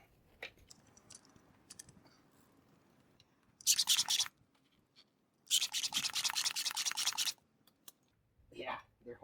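An old bicycle salvaged from the garbage, fitted with Kenda tires rated to 65 PSI, being pumped up with air: two loud bursts of rhythmic hissing strokes, a short one and a longer steady run, with brief speech afterward.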